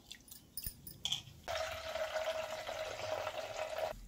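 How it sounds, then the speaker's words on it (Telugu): Water poured over soaked rice in a bowl being washed for sesame arisalu, a steady pouring and splashing wash that runs for a few seconds after some small clinks and drips, fairly close. "మళ్ళీ మళ్ళీ కొత్త నీళ్ళు పోసి మళ్ళీ కడిగి నీళ్ళు అంపేయాలి 2 సార్లు"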